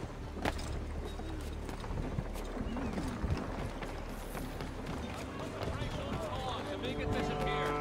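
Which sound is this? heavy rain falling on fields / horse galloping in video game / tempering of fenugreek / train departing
horse galloping in video game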